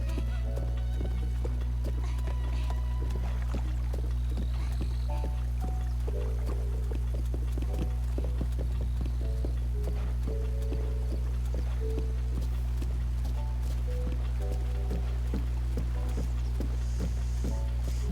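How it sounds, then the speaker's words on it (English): Rhythmic hoofbeats of a horse in Breath of the Wild clop steadily in a trotting pattern over a constant low hum, continuing evenly throughout with occasional soft clicks. "you can still ride your horse to a trot."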